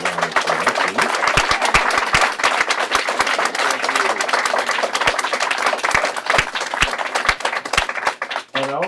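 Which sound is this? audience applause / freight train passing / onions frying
audience applause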